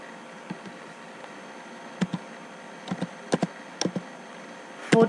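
Scattered keystrokes on a computer keyboard come as isolated taps and small clusters, with a louder clack near the end, close against a quiet hiss with no voices.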